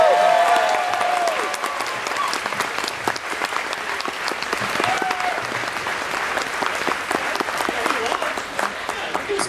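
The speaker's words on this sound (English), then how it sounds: "One more round of applause." An audience at a cruise orientation session claps and cheers in a lively burst that thins slightly but continues throughout, with voices mixed into the crowd noise.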